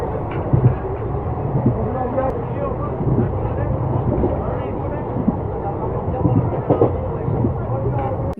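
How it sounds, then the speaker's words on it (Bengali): A steady, loud rumble fills the inside of a moving passenger train at night, with faint rhythmic rail clatter and people talking throughout the carriage. "ট্রেন চলে এসছে, আমরা চেপে গেছি।"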